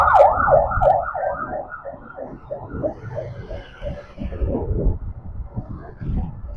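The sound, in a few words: ambulance siren passing on the road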